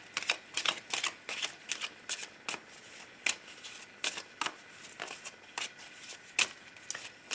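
A deck of oracle cards is shuffled by hand for a reading, quiet crisp riffling snaps repeating in a quick uneven rhythm close by, with no talking.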